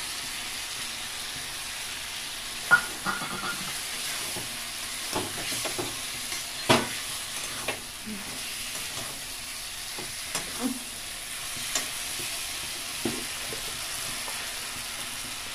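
Cashews and poppy seeds stirred in a hot pan for butter paneer, a steady moderate frying hiss broken by repeated sharp spoon scrapes and taps at irregular intervals.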